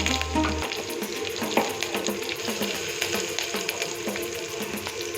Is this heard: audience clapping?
no